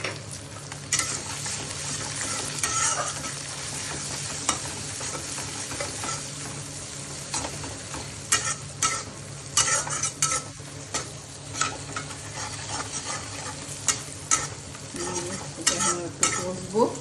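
Ghugni, a Bengali dried-pea curry, being stirred and sautéed in a pan just after turmeric goes in, with a spoon scraping and clinking against the pan in uneven bursts over a steady sizzle of frying.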